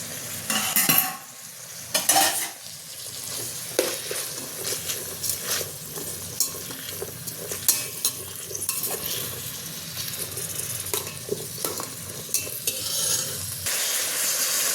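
Onion, capsicum and tomato sauté in a pan as a spoon stirs and scrapes through them, with a steady sizzle and repeated metallic scrapes and knocks against the pan. No voices.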